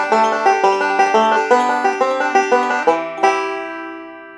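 A banjo playing a three-finger arrangement of the melody of My Grandfather's Clock, with quick, evenly plucked rolling notes close up, ending on a ringing final chord, without talking.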